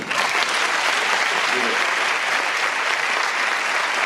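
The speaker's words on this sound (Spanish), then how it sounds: "iso merece un aplauso, non?" Sustained applause from an audience at a cancer charity gala, a dense even wash of clapping filling the whole stretch at steady loudness.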